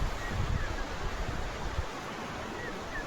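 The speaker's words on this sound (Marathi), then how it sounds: "फायनली आमच्या नदीला पाणी आलेलं आहे" Mula river rushing with its first water after a late monsoon, a dense, continuous broadband roar of flowing water, steady and fairly loud.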